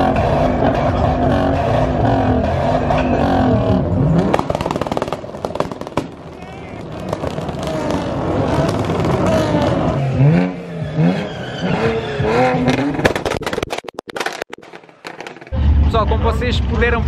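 Drag racing cars, a Ford and a Camaro, roar off the line at a drag strip, loud engine revving and accelerating whines under an announcer and crowd talk, ending with a sharp burst of engine noise.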